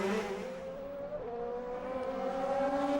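A DTM touring race car pulls out of the pit lane at Dijon in 2009, its engine a faint, distant drone that climbs steadily in pitch as it accelerates away.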